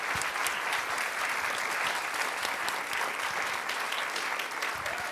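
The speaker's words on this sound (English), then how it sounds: "And can you give Casey a round of applause?" A live audience in Pasadena gives Casey a round of applause: a full, continuous roar of clapping from many hands, loud and even for several seconds without talk.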